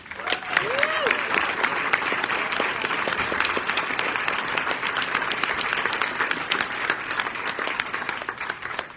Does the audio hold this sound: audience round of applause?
yes